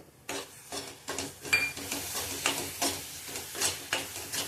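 Coconut vadi mixture stirred in a pan with a spoon, repeated scraping and clattering strokes in a steady rhythm, close and fairly loud with a faint sizzle beneath.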